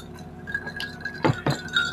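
Drinking glasses clink together in a toast at a Filipino mukbang meal of pork bopis and tocino, with two sharp, bright clinks close by over a light background murmur.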